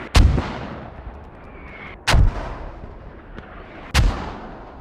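Gunfire in a tactical shooter game, three heavy booming shots spaced about two seconds apart, each with a sharp crack and a rumbling tail, close and loud with no talking.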